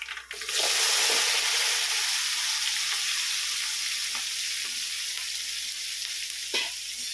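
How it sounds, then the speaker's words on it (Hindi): Mixed vegetables (cauliflower, carrot, capsicum) hit hot oil seasoned with asafoetida for khichdi, giving a loud, steady sizzle that starts abruptly and continues throughout, with occasional stirring scrapes and no talking. "अब हम इसमें सारे वेजिटेबल्स डालेंगे।"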